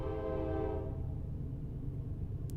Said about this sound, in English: Oh, a train's going by.